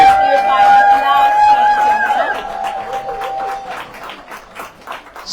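A church congregation applauds a couple: a voice speaks or chants over tonal background sound at first, then scattered, fairly close hand claps rise and continue to the end.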